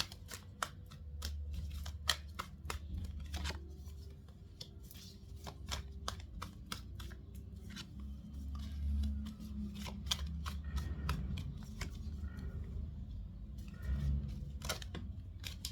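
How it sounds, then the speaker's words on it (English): Tarot cards being shuffled by hand, a quick run of crisp flicks and riffles that sound soft and close, followed by papery rustling over a quiet, steady room hum, with no talking. "Okay, cards flying everywhere, excuse me."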